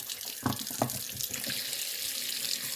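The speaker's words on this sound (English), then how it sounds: "I'm going to fill this sink up with water just enough to cover it." Tap water runs steadily into a kitchen sink, filling it with a continuous broadband rush and a few soft knocks early on, close and alone with no talk.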